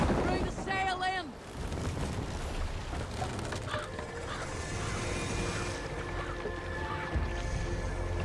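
A Viking ship under sail in Assassin's Creed Valhalla: a continuous rush of wind and water surrounds the vessel, with a brief shouted voice near the start.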